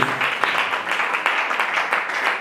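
A church congregation applauds during worship, giving continuous close clapping that holds at a steady level for the whole moment.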